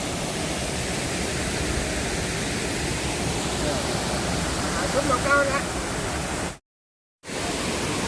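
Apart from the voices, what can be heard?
Tad Phu waterfall at Pak Song, Laos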